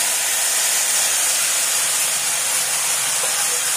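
Boiled, turmeric-salted cluster bean pieces drop into hot oil tempering, giving a loud, steady, close hiss of sizzling that holds evenly throughout, with no talk over it.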